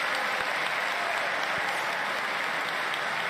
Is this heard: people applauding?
yes